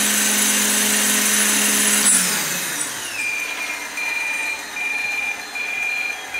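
An XGuard C82 backup guard alarm on a Blade Fusion 480/550 RC helicopter sounds as a steady high electronic tone pulsing in regular beeps, loud and close, after a motor whine winds down.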